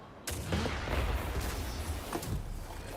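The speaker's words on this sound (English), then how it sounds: "I knew those fireworks looked shady." Fireworks go off in the Marvel's Spider-Man 2 video game as a series of booming, crackling blasts that start abruptly and keep rolling close and loud for a few seconds, with faint game voices underneath.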